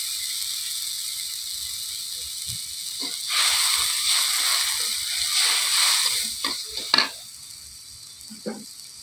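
Fish fries in a pan with turmeric and chilli, a steady hissing sizzle broken by scraping, clattering stirs that grow busier midway, close and fairly loud.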